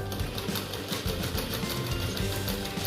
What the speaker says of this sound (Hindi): इसको हमें 2 बार सिलाई करनी पड़ेगी फिटिंग के लिए